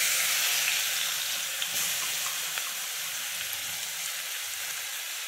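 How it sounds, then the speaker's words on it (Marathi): Cumin, asafoetida, turmeric and chopped onion sizzle in hot oil, a loud hissing fry that starts strong and gently settles over a few seconds, with faint clicks and no speech. "तेल पण आपलं तापलंय, तर त्याच्यामध्ये मी जिरं घालते आधी, त्याच्यानंतर हिंग, हळद आणि हा आपला चॉप केलेला कांदा घालूयात आपण"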